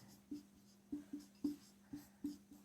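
Pen strokes on paper while working a maths problem, heard as about seven short scratchy taps in an irregular rhythm, close and quiet over a faint background hum.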